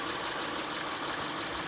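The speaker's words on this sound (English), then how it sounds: "the engine is still running pretty strong" A 2006 Honda Ridgeline engine with about 255,000 miles idles with a steady, hissy, noisy drone at low level and no voices.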